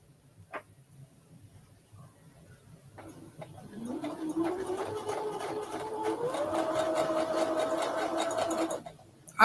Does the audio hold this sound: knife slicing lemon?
no